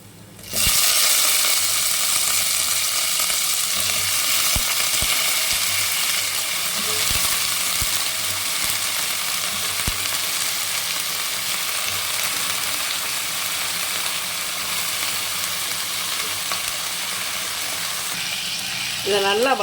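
Pieces of drumstick (moringa pods) sauté in hot oil in a pan, giving a loud, steady frying sizzle that runs unbroken throughout, with occasional soft stirring knocks.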